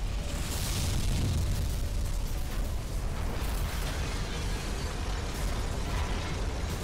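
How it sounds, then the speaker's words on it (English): A nuclear explosion in the shooter game F.E.A.R. gives a sustained, roaring, rumbling blast with crackling debris, loud and continuous throughout, with no speech. "Obviously the answer is to shoot the nuclear explosion out of the air."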